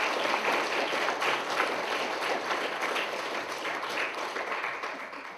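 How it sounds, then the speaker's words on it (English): An audience at a startup pitch day applauds the judges with steady, dense clapping that holds at an even level for several seconds and eases slightly toward the end. "Please join me in giving our judges a round of applause."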